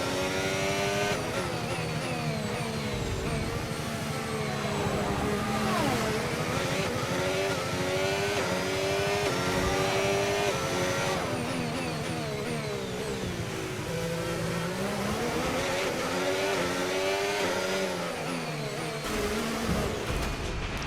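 Race car engines in the F1 25 video game drone and rev continuously for about twenty seconds, pitch sweeping up and down through gear changes, loud and steady with no talking over them.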